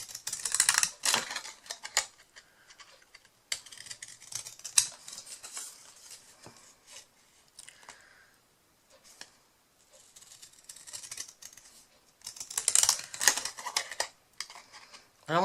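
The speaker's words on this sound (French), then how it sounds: "Je vais prendre mon ciseau cranteur et je vais tout simplement découper des deux côtés" Paper being cut with pinking shears for a scrapbooked gift-card holder, a string of crisp snipping clicks in bursts with pauses between, close and moderately loud, no talking.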